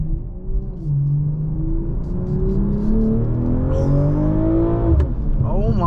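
Engine of a 2023 BMW M440i Coupe revving through downshifts from the cabin, rising and falling harmonic sweeps with a sharp blip near the end, loud and close, with someone speaking excitedly over it.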